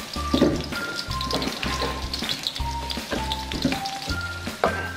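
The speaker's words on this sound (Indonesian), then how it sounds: "Ini kita tumis dulu bawangnya, bawang semua bawang." Onions sautéing in a pan for a village-style chicken dish: a steady close sizzle and crackle runs throughout, mixed with background music.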